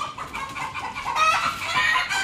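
A native chicken being caught clucks and squawks agitatedly for a couple of seconds, close and fairly loud, with flustered rising cries.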